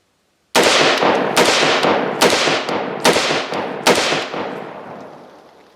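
Five loud, sharp shots from a Palmetto State Armory JAKL 5.56 piston pistol ring out at an even pace just under a second apart, each leaving a ringing echo that fades out after the last.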